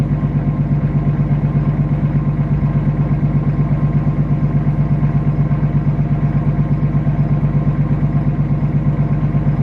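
A freshly rebuilt BMW 135i engine runs steadily just after starting, a close, loud, even idle with a constant mechanical clatter and no talking.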